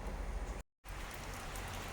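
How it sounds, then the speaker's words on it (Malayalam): Steady rain pours down, a dense hiss of drops on a surface with a brief silent gap partway through. "വൈകിട്ട് നല്ല മഴയൊക്കെയാണ്"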